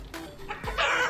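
Video game chickens clucking in a Montaro play session, a short burst of a few close, loud, squawky clucks stacked over a low rumble of game sound.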